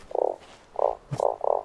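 A frog in the survival game Starsand croaks in four short, buzzy bursts with brief gaps, close and clear, with a faint click between the later calls.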